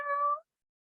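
A voice-activated robotic toy cat gives a single short electronic meow, tonal and clear, close to the microphone and fading out within half a second, with no talking over it.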